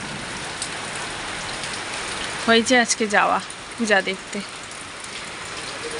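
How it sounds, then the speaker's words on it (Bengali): Night rain falls steadily in Siliguri, a constant soft hiss on surfaces throughout, while a voice speaks briefly over it in the middle. "এই দেখো শিলিগুড়িতে বৃষ্টি শুরু, বিদ্যুৎও চমকাচ্ছে"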